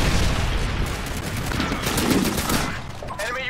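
Pistol fire in Call of Duty: Modern Warfare 2 online play, a fast run of loud overlapping shots with no clear pauses between them.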